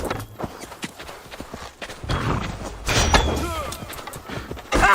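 Horse hooves clopping in the Assassin's Creed Valhalla video game, several steps in an uneven rhythm mixed with combat noise and game sound, moderately loud with no one speaking.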